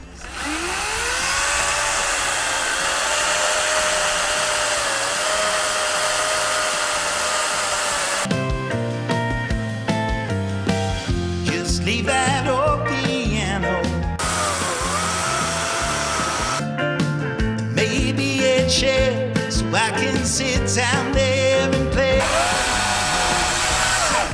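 A cordless chainsaw with a Stihl chain whines steadily, then bites into wood in two long loud cutting bursts with a rough, buzzing chain sound.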